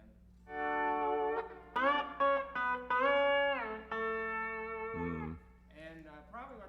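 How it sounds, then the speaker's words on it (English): A sustained, gliding instrument line played live through a chorus effect in a small-venue set, with bending, wavering notes and short breaks, loud and close with no talking. "And then I add some chorus every now and then."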